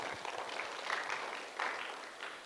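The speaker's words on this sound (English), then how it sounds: "So yeah, round of applause for them." A round of applause for the conference team at Frappeverse Africa 2025, scattered clapping heard faint and distant, swelling slightly in short bursts.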